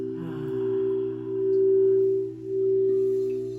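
Singing bowls ringing with steady, sustained pure tones that swell and fade in slow waves during a meditation session, with no speech over them.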